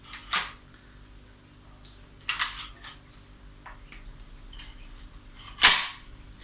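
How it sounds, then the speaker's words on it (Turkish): A shell pressed into the loading port of a Browning A5 kinetic semi-automatic hunting shotgun: a few sharp, close mechanical clicks and snaps spaced apart in a quiet room, the last one loudest. "Tüfeğimize fişeğimizi vereceğimiz zaman da önce fişeğimizi yatağına basıyoruz"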